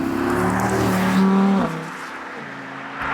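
A loud, close Audi R8 V10 Plus Spyder engine revs and drops off, with a burst of crackling exhaust as the throttle lifts, then settles to a rumbling idle.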